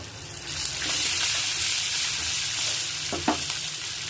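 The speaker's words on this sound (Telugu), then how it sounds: "ఇవన్నీ బాగా మగ్గించుకోవాలండి" Urad dal, coriander seeds, green chillies and a pinch of asafoetida frying in oil in a pan, a dense, even sizzle that holds steady throughout, close by, with a couple of brief stirring knocks near the end and no speech.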